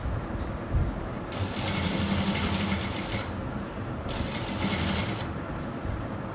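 A sewing machine stitches a blouse neck lined with canvas, whirring in two short bursts of rapid stitching separated by a pause, heard over a constant low room hum.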